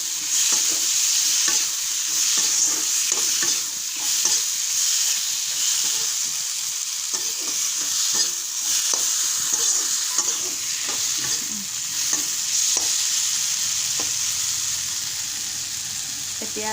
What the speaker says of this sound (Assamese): বিলাহীটো দি অলপ লৰাই থওক